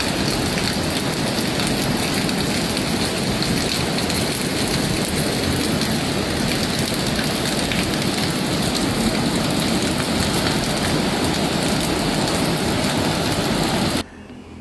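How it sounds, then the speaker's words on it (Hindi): Heavy rain pours down in Rudraprayag, a loud unbroken hiss of downpour lasting about fourteen seconds before stopping abruptly. "लगातार बारिश हो रही है, मूसलाधार बारिश हो रही है"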